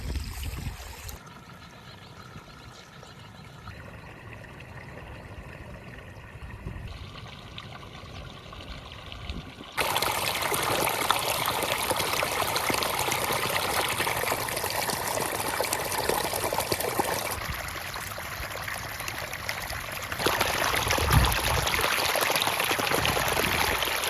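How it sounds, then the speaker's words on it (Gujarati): Water runs steadily through a farm irrigation channel, a continuous broadband rush and gurgle near the microphone that grows louder partway through and stays constant, with no voices. "આગળ તો પાણી તો ચાલુ જ છે ભાઈ અત્યારે જોઈ શકો છો"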